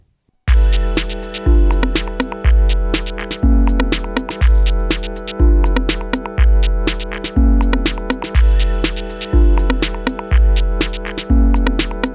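A loud, steady electronic percussion beat at 122 BPM: punchy kick hits on a regular pulse with layered percussion ticks and tonal synth elements, looping evenly without any voice.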